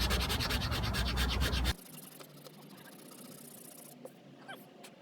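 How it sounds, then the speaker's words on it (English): Razor blade scraping a dry plastic gas tank on a Honda XR250R: loud close rasping scraping for under two seconds, then quiet faint handling sounds. "So I'll try the razor while it's dry."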